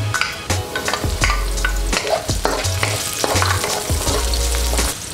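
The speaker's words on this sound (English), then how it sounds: "Add the shallot." Shallots fry with garlic in hot oil, a steady close sizzle broken by repeated spoon or spatula scrapes and knocks against the pan, with no one speaking.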